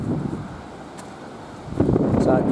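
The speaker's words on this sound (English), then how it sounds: "It's just super windy today." Gusty wind buffets the microphone with a low rumbling roar, swelling louder near the end.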